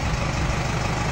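A truck engine runs steadily under acceleration on a long highway haul, a dense low rumble filling the cab, close and continuous with no talk.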